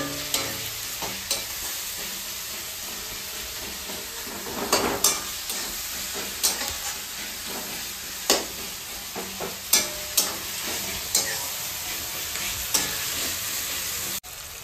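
Tomato and onion with a little salt fry and sizzle in a pan for a home-style mutton curry. A constant hiss runs under repeated sharp clacks of a spatula stirring against the pan, with no talk.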